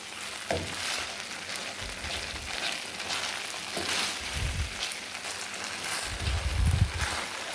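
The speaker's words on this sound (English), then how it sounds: "So I'm stirring it up here, mixing up the flavors with the onions and the sloppy joe." A sloppy joe mixture with onions is stirred in a hot pan, a close steady sizzle with soft scraping and a few low thumps from the spoon, no talking.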